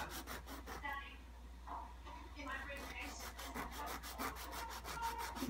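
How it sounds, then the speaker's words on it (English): Sandpaper rubbed back and forth by hand along the back edge of a fretboard piece on a Martin DCPA5 acoustic guitar, giving steady close scratchy strokes with a regular rhythm throughout. "We'll take this back edge down a bit. A piece of sandpaper."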